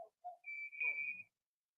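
A referee's whistle during an ice hockey game between Canton and Akron blows one sharp, steady blast lasting under a second, fairly quiet and slightly distant, with faint rink noise around it.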